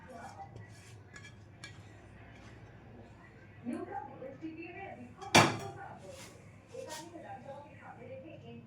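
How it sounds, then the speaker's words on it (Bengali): Cheesy paneer masala tipped from a pan into a bowl, with soft scrapes, a sudden clatter and one sharp metallic clink of utensil on cookware, followed by lighter clinks, over quiet background talk. "এবার এটাকে আমি এখন একটা বাটিতে ঢেলে নেব।"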